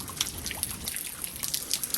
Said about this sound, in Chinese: 我估计是那个什么水管漏水